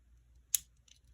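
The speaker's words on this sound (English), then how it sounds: "they have scissors, which I always think is like cool to have scissors on such a small knife" Small scissors on a DeWALT pocket knife from a survival kit give a single faint, crisp metallic snip in a quiet room.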